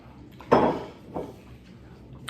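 A spoon knocks and scrapes inside a pot while jambalaya is stirred, with one solid clunk followed by a softer second knock, close up and without talk.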